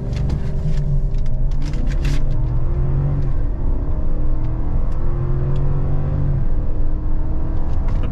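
2023 Chevrolet Suburban High Country launching hard from a standstill to 60 mph at high altitude, its engine roaring loud and close as it climbs through gears, with a shift break partway.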